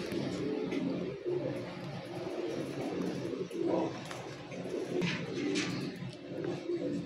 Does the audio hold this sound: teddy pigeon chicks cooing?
yes